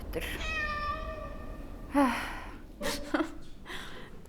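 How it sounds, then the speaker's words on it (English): Cat meowing in the VR game Waltz of the Wizard, one long drawn-out meow near the start followed by shorter gasping and startled vocal sounds, fairly close against a quiet background. "it was a scary cat"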